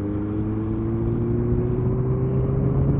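Kawasaki ZX-7R sportsbike engine lugging smoothly in 6th gear at around 40 mph, a steady loud mid-low drone with a faint gradual rise in pitch, wind rush over it, no talking.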